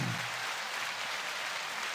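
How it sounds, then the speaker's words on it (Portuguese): Applause from a live audience during a talk about radio, sustained and even across the whole two seconds. "Uma salva de palmas"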